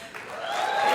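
A gala awards audience applauds, the clapping swelling over about a second, with a tonal ringing sound running beneath it.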